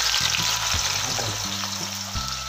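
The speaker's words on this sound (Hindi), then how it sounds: "हमने तेल गरम कर लिया था और इसमें ये प्याज डाल के हम इसको गोल्डन फ्राई कर लेंगे।" Finely chopped onions sizzling in hot oil in a pan as they fry toward golden, a steady loud crackle with faint stirring scrapes and no voices.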